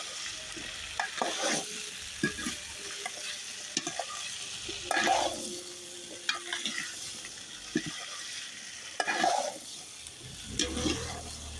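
Potatoes fry in hot oil with panch phoron, a steady close sizzle broken by repeated scraping stirs of a spatula against the pan.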